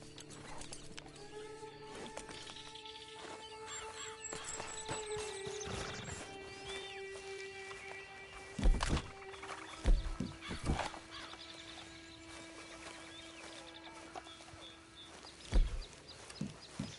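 A horse in a PS4 video game, with steady, fairly quiet background hoof clip-clop, several louder thuds and a whinny-like call, and faint birdsong and ambience throughout.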